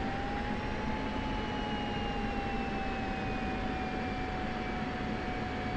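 Steady jet engine drone from a fighter taxiing in the DCS flight simulator, with a continuous broadband roar and a high whine that glides slowly in pitch, constant and close throughout.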